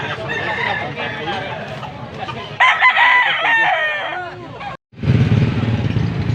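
A stag rooster at a gamefowl market in Angeles City, Pampanga, crows loudly and close, with clucking and other fowl around it, amid a busy babble of people talking and background crowd noise.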